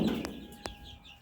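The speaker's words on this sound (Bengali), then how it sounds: "ছয়টা মোরগ রাখছি, আর সবই মুরগি।" A pen of Fayoumi hens and roosters gives a couple of short, soft clucks close by over a quiet background.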